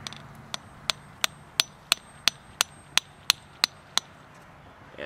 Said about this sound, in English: Take a hammer and just lightly tap.